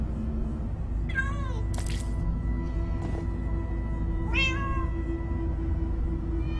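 A cat meows twice in the video game Minecraft Story Mode, short clear cries a few seconds apart over a low, steady game background hum.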